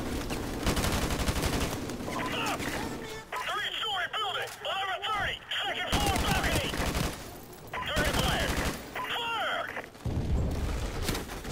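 Gunfire from the shooter video game Modern Warfare Remastered rattles in dense automatic bursts, loud and repeated, broken by short gaps, with someone talking over parts of it.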